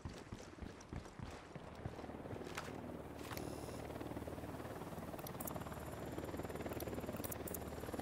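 A helicopter in a video game flies on patrol overhead, its steady rotor drone growing and holding as a loud, continuous wash of sound, with brief sharp effects mixed in and no talking.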